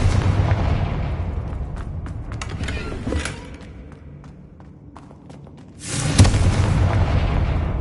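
A fire-blast spell explodes in the video game Hogwarts Legacy, a deep boom with creaking debris that settles into a quieter lull, then a second loud blast rumbles on to the end.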